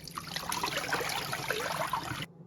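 Rinse water draining off cut potatoes for homemade French fries, a steady splashing trickle running for about two seconds before stopping abruptly.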